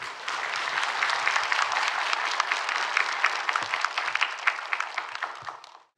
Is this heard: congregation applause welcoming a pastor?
yes